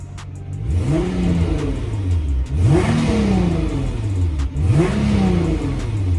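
Nissan GT-R with its turbo engine revved in repeated throttle blips, each a sharp rising and falling surge about every two seconds, loud and close over a steady idle.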